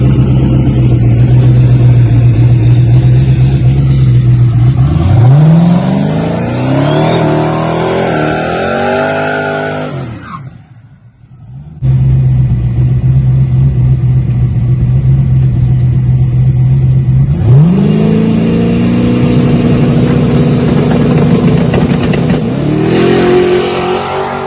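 A turbocharged LS-swapped Mustang at a drag strip, engine roaring loud and close as it accelerates hard through the gears, cutting off briefly mid-run before another rising, revving pull.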